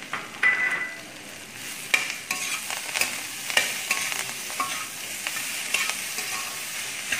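Grated coconut and green chillies being stirred into a beetroot curry in a pan, with repeated clattering spoon scrapes and knocks over a soft sizzle, close and irregular, with no talk.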